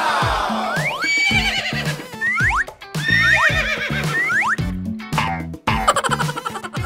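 Toy horse neighing with repeated electronic whinnies in quick rising and falling bursts, loud and close, followed by clattering toy hoofbeat clicks.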